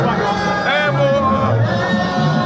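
A large crowd at an Igbo New Yam Festival in Ijegun, Lagos, fills the air with loud, dense chatter and voices all around, a steady close hubbub with occasional shouts.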